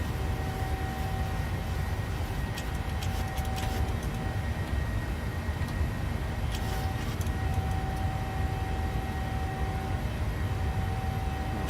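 Steady broadband engine roar of a PMDG 737-700 airliner climbing after departure from Cleveland in Microsoft Flight Simulator, a continuous, even drone with a faint tonal whine running throughout and no talk.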